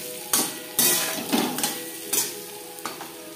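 Potatoes frying in a pan with turmeric and salt, a steady sizzle broken by several loud scraping stirs of a utensil against the pan, close up with no talking.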